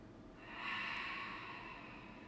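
A slow, soft breath during a yoga flow, drawn in and held, airy and close with a gentle rise and fall, alone without talk.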